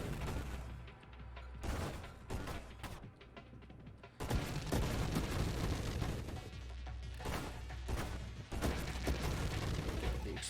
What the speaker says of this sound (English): The explodey guys exploding.